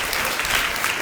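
A crowd at a devotional gathering in Govardhana, India, applauds in a short, dense burst of clapping that stays steady and fairly loud throughout.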